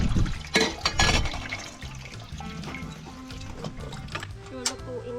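Chopped cherry tomatoes are rinsed with water in a home kitchen while ketchup is being made, giving soft splashing and trickling with clattering handling noises, close and moderately quiet, and a voice speaks briefly.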